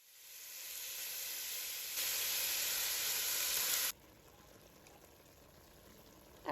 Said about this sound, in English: I'm going to add in the meat and I'm going to brown this on medium heat